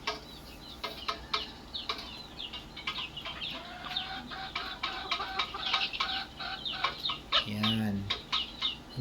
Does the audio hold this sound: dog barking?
no